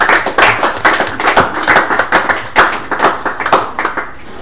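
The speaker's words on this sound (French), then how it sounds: "Est-ce qu'on peut acclamer pour les compétiteurs?" A crowd claps steadily for quiz competitors at a live French-language Bible trivia event, a dense, continuous patter of hands at close range with no talk over it.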